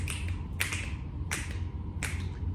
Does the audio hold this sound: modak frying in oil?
no